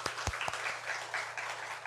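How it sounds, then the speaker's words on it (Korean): A church congregation applauds together during a Sunday service, dense steady clapping from many hands, with a few sharper claps standing out at the start. "우리 서로에게 박수 치면서 하나님께 영광을 드리겠습니다."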